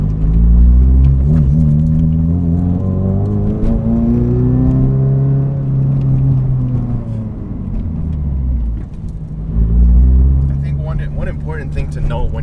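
A Toyota GR86 on a race track while its brakes are being bedded in. The engine note is loud and close from inside the car, swelling and easing through acceleration and lift-off, with a voice talking over it.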